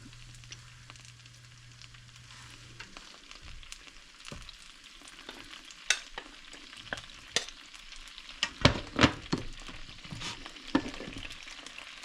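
Pad thai sauce and oil sizzle and crackle in a hot pan for shrimp pad thai with bok choy and shiitake mushrooms, a close, steady frying hiss punctuated by sharp pops and stirring clatters.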